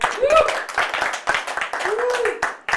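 Rhythmic hand claps from a stand-up comedy audience ring out at close range while people shout and talk excitedly over them.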